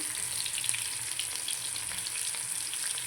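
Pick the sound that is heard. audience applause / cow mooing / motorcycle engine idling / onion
onion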